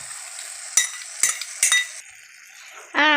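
A spoon stirs banana stem and lentil stir-fry (vazhapindi thoran) in a pan, scraping and clinking against the metal in three sharp strokes over a steady, close sizzle.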